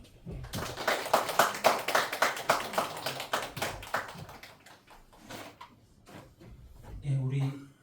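Rapid clapping from a church congregation during a confirmation service swells over a few seconds and fades, with a voice talking through and after it.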